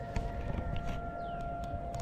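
A distant city siren in León, Nicaragua holds a long, steady wail that carries across an open outdoor space, with faint background noise beneath it.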